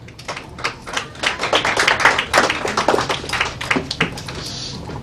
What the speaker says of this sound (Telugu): గట్టిగా క్లాప్స్ అండి, వినిపించట్లేదు